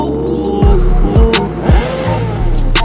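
A quad bike revving out in the Marrakech desert, loud and close, its engine note swooping up and dropping back in three or four quick throttle blips over a steady idle.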